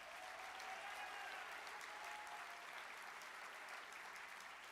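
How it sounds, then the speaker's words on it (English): Sustained applause fills a large hall at the opening plenary of a general assembly, a steady wash of many hands clapping at moderate distance, without speech over it. "Clap for them, please."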